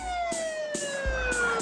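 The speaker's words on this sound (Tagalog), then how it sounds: "May sirena na." A police car siren wailing loudly and continuously, its tone sliding steadily downward, with a few sharp knocks or thuds beneath it.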